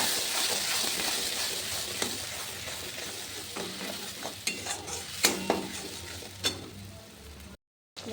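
Ground spice paste sizzles and fries in a hot pan over panch phoron, with a steady hiss broken by scraping stirs and utensil clinks, close and fairly loud, briefly cutting out near the end.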